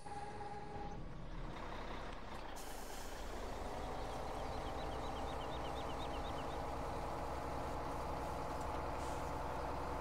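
A farm truck rumbles steadily at close range, a low continuous drone with a faint high beeping pattern and a hiss near the start.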